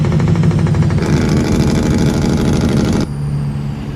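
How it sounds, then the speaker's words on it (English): An engine or jake brake on a Prostar truck in a truck-driving video game gives a loud, rapid, throaty rattle. The pulsing tone steps down in pitch midway and drops in level near the end. "But you actually get 3 different levels of jake brake."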